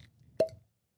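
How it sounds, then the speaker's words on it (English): A cork pops out of a whiskey bottle in one sharp, hollow plop, close and clean after a brief low murmur, then silence. "Cork pop."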